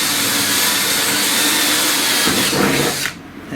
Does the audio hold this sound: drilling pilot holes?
yes